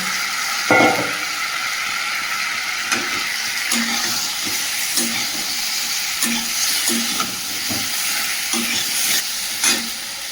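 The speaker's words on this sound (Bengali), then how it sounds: "এবার এই মাছগুলো এর সঙ্গে দিয়ে দেবো, দিয়ে কষিয়ে নেব।" Fish pieces fry in a ginger, garlic, onion and tomato masala, a loud continuous sizzle and hiss with occasional stirring scrapes and pops close at hand.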